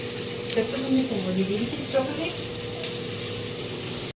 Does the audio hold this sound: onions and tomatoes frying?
yes